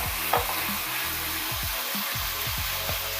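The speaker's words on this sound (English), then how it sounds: "Let's brown our turkey." Ground turkey browning in a hot pan, giving a steady loud sizzle with repeated scraping strokes as it is stirred and broken up.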